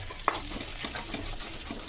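Onion, garlic and chili frying in a pan, a close, quiet sizzle with quick scraping strokes of a spoon stirring, brief and without speech.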